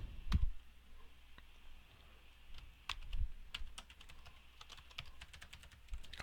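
Computer keyboard typing while code is entered for an Android city guide app, a run of crisp, irregular key clicks close to the microphone with brief pauses and a couple of heavier thumps at the start.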